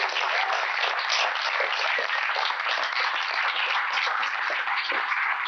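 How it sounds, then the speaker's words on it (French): Studio audience on a French-language quiz show applauds the student contestants, a steady, dense wash of clapping that holds evenly for several seconds. "On peut les applaudir"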